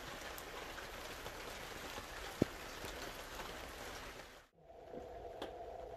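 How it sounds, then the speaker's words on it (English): Steady rain hiss fills the clip, with a sharp single tap midway and a brief dip near the end before the rain resumes. "It may be raining"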